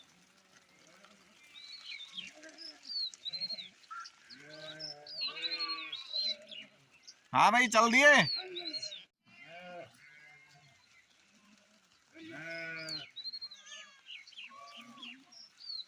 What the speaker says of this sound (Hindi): कितना बड़ा बकरा है।